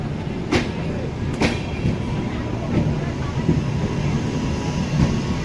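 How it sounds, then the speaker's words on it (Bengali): The Sealdah–New Alipurduar Express, train 12377, rumbles steadily as it enters a station, its wheels giving occasional clanks and rattles as it rolls along, with faint voices under the continuous noise. "শিয়ালদা নিউ আলিপুর এক্সপ্রেস এই মুহূর্তে প্রবেশ করছে"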